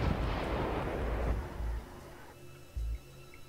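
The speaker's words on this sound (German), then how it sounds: "die Jäger schießen schon hier wie wild" Infantry gunfire crackles in Wargame: European Escalation, a dense distant rattle of shots that fades out, followed by a couple of low thumps.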